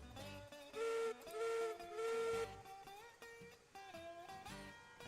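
A steam locomotive whistle in the Railroads Online video game sounds in a few sustained, fairly faint blasts over hissing steam and background game noise, with no talking.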